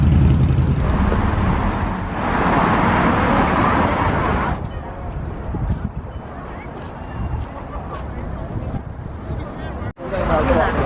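Busy Beijing road traffic, a steady broadband rumble of passing cars that swells and eases, with a voice talking over it for much of the time.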